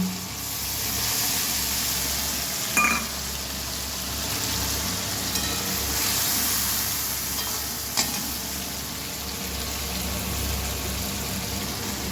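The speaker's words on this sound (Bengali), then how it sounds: "সর্ষের বাটি দিয়ে একটু জল দিচ্ছি।" Mustard paste sizzles loudly in a pan after a splash of water goes in, a strong steady hiss lasting throughout, broken by a few sharp clicks of a spoon.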